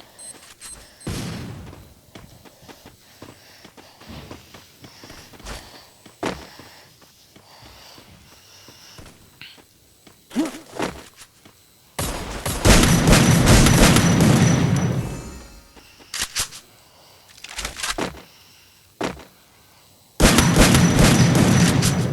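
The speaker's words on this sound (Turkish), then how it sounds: "Adam bomba atıyor içeriye." Gunfire and explosions in the video game Free Fire, with a bomb thrown indoors: loud broadband bursts of shots and blasts in clusters, quieter rattling in between.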